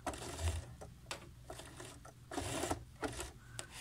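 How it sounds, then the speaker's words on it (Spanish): A sewing machine stitching along a fabric edge, quiet rhythmic mechanical whirring in short runs with brief pauses between them, heard alone and close up. "Estoy cosiendo, estoy tratando de encontrar el lugar."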